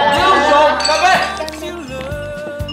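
Glasses clink together during a toast in a drama scene, a bright ringing chime at the start that fades over a few seconds while a voice calls out over it.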